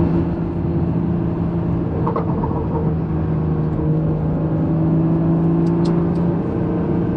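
A BMW 340i, rear-wheel drive, accelerating in Sport Plus mode, its engine a steady loud drone with a low rumble throughout, heard from inside the car without talk.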